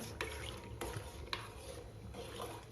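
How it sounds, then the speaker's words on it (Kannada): A spoon stirs salted peanuts in a pot of boiling water over a medium gas flame, giving soft scraping strokes and a few light taps against the pot in a quiet, bubbling background. "ಒಂದು ಸ್ಪೂನ್ಲಿ ಅಲ್ಲಾಡ್ಕೊಂತೇಳಿ"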